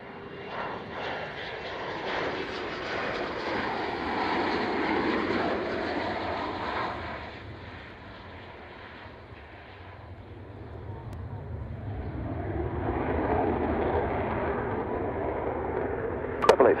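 A military aircraft flies a touch and go at RAF Coningsby, its engine roar rising, easing and swelling again as it passes at moderate distance, with faint radio talk underneath.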